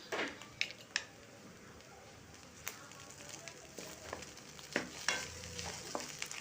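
Egg rice being stirred and mixed in a pan, quiet low sizzle under scattered scraping taps of a spoon against the pan, irregular and fairly faint.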